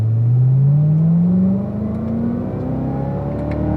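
Corvette engine pulling hard on a track, a loud close drone rising steadily in pitch, then a gear change drops the tone before it climbs again under continuous power.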